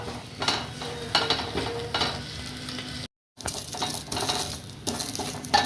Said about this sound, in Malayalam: ഒരു പാനടുപ്പത്ത് വെച്ചിട്ട് ആദ്യം തന്നെ നമുക്ക് ഈ മുരിങ്ങയില നന്നായിട്ട് വറുത്തെടുക്കാം